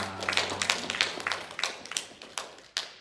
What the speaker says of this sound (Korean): 우리 박수로 환영하면 좋을 것 같습니다.